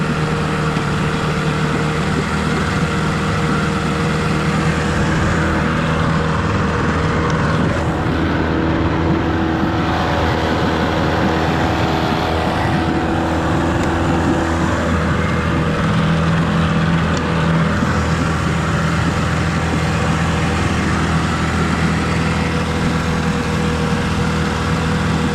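A 1989 15 hp Gamefisher outboard motor runs steadily and loudly close by for the whole stretch, a continuous droning idle with no speech.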